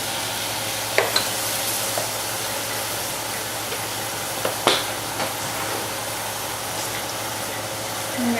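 Meat fries in a pot for arroz con gandules, a soft continuous sizzle under a low steady hum, with a few faint clicks and spoon taps scattered through; no one speaks.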